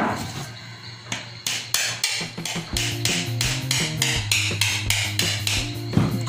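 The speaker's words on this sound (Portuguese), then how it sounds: "Eu vou fixar por aqui com prego." Nails hammered by hand into a wooden broom-handle bird figure, a rapid series of sharp, close metallic strikes in steady rhythm over several seconds.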